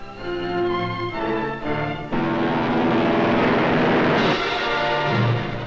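WWII US Navy propeller planes take off from an aircraft carrier, their engines droning loudly and steadily before swelling into a louder, rougher roar, with a sharp change partway through, in a 1945 newsreel recording.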